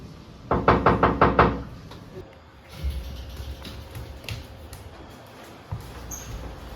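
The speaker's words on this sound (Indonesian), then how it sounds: "coba lu ketok lagi dah" Someone knocks on a door in a quick run of about six firm raps, loud and near, followed by quieter shuffling and faint room noise.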